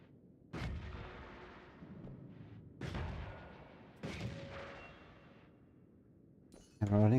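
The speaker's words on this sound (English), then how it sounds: "The explosion sounds on the fireball sound like the empty spell sound." Video game fireball spell explosions: three sharp blasts spaced a couple of seconds apart, each with a booming decay, followed by a brief crackling burst at the end.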